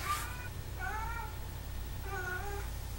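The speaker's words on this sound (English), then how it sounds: "My cat is freaking out in the background." A pet cat meows in the background, three distinct drawn-out cries spaced about a second apart over a low steady hum.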